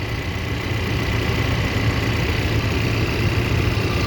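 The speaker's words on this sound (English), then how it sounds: "But it's a smooth running engine." A 2021 Ford Ranger's 2.3-liter turbocharged four-cylinder idles smoothly, a steady low hum holding even throughout with no voices.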